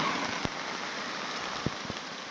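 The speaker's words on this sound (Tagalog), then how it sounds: "Ano to, hailstone yata to eh." Small hailstones fall in a steady, dense, hiss-like patter close by, with a few sharper ticks of individual pellets striking a surface, and no voices.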